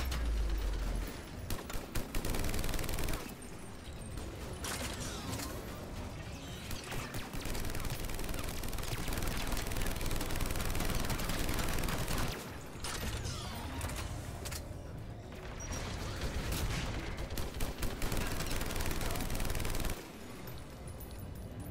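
Turret gunfire in Mass Effect rattles in long, dense automatic bursts separated by brief pauses, loud and sustained across the whole stretch with mechanical clatter mixed in.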